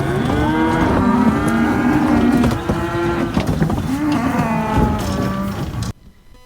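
Cattle arriving at a ranch by semi-truck in summer moo loudly and continuously, several animals calling over one another up close before the sound cuts off abruptly near the end.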